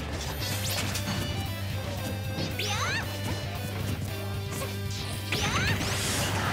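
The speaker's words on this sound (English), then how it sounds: "he keeps falling into these F smashes" Forward smash hits in a Super Smash Bros tournament match, sharp crashing impacts with swooshing whips landing a few times over steady game music and crowd noise.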